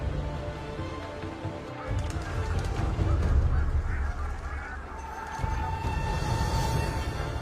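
Geese honk in a steady, busy chorus at middle distance, with dense overlapping calls and a low background rumble; no voices.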